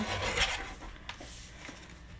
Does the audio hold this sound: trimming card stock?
yes